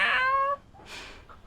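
A person imitates a cat's meow, one short, loud, strongly tonal call that is then followed by faint, breathy sounds.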